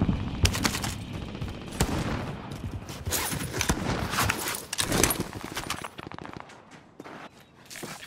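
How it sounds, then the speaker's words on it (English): Bursts of gunfire from the video game Call of Duty: Modern Warfare, rapid automatic volleys and scattered shots that stay loud and close, mixed with clattering gear and footsteps before thinning out near the end. "maybe they're just shooting inside there"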